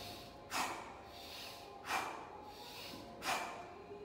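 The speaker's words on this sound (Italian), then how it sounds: "La respirazione che dobbiamo provare adesso è di forza dentro, di forza fuori dalla bocca" Forceful breathing for rowing, in through the nose and out through the mouth, three sharp, evenly spaced breaths about every second and a half, close and alone without talk.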